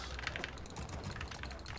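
Rapid keyboard and mouse clicking from a Warcraft 3 player, a dense stream of close, quiet clicks and taps running continuously without pause.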